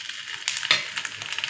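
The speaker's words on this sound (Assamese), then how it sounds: "ইফালে পৰঠাখিনি ভাজি ল'লোঁ, তাৰপিছত এতিয়া কণীটো দি দিছোঁ।" Parathas fry in oil in a pan with a close, steady sizzle, broken by sharp crackles and pops.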